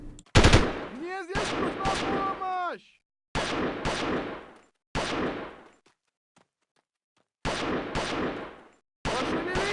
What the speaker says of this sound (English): Dude, you're firing your weapons inside a goddamn nuclear bunker.